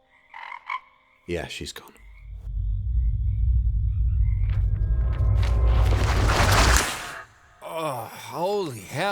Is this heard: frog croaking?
yes